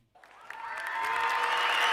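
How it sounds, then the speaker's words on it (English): A cheering sound effect triggered from a Stream Deck in a home streaming studio swells in after a brief pause and grows louder, with applause and whoops building into sustained crowd cheers. "if we wanted a little cheering sound,"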